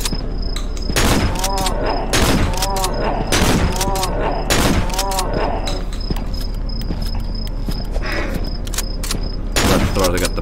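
Repeated loud bursts of gunfire in the horror game Cry of Fear, heavy shots roughly every second with footsteps and clanks between them, a steady high tone and low hum underneath.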